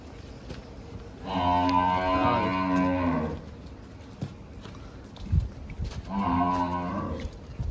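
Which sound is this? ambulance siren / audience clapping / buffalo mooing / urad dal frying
buffalo mooing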